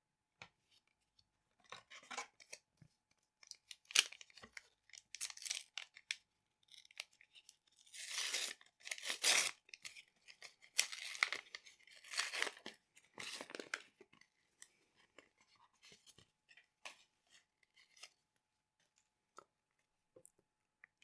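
A Flesh and Blood History Pack 1 Black Label card booster being torn open, with quiet crinkling foil and sharp tearing bursts, strongest midway, then soft handling of the cards, heard close up with no talking.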